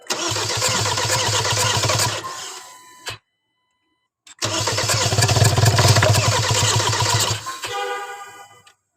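A 2019 Hyundai Tucson with a D4HA diesel engine cranks and fires twice, each attempt a loud, close run of roughly three seconds separated by a short silence, with a rough fading rattle after the second try and no talk.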